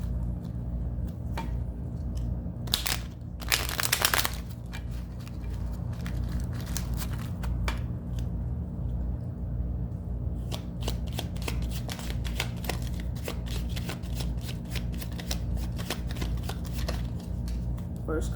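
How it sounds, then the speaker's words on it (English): A tarot deck is shuffled and the cards laid down, with crisp riffling bursts and a steady run of soft flicks and taps close by, with some talking around it. "Let me get the cards down."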